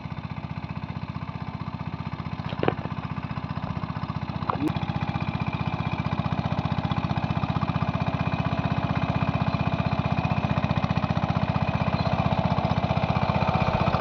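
A Captain 200 DI mini tractor engine runs nearby during inter-row field work, a steady, close, rapidly pulsing diesel chug that holds evenly throughout, with a couple of brief clicks and no talk.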